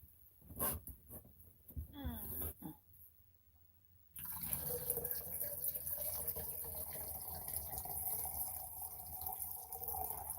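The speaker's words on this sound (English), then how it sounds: "I'm gonna have to fill up my water bottle too, because I done drank it all" Tap water running to fill a water bottle, a steady, close hiss and splash that starts suddenly partway through and keeps going, after a few seconds of light clicks and handling noises.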